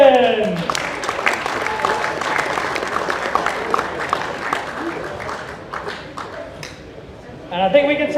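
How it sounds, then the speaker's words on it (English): A crowd applauds the champion at the South African Open golf tournament, a steady outdoor patter of many hands that fades slightly toward the end, with a voice speaking over the start and the close. "Let's have another round of applause for our champion."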